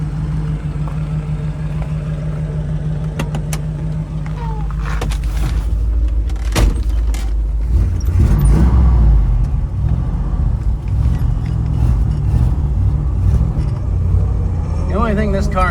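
A 1969 Ford Mustang Mach 1 fastback with a 351 V8 and 4-speed, idling with a deep steady rumble close by, a short rev swelling midway, while someone talks over it.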